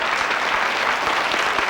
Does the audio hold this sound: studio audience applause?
yes